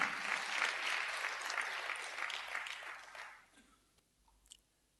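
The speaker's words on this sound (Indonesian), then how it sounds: "Yang percaya tepuk tangan buat Tuhan." A church congregation applauds together in a broad burst of clapping that holds steady for about three seconds, then fades out to quiet with a few scattered claps.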